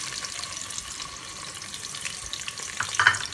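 Finely chopped onions fry in hot oil with a steady, close hiss and crackle that swells slightly near the end, without any talking.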